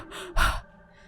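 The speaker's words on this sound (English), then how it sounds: "Strained, raspy, and painful breathing from what sounds like a woman." A woman's strained, raspy, painful breathing comes close and alone: a short rough breath, then a sharper, harsher gasp that trails off quickly.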